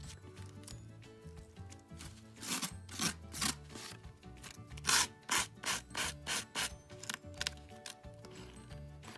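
A nail file rasps along the edge of a napkin-decoupage card, a faint series of quick scratchy strokes in rhythmic bursts.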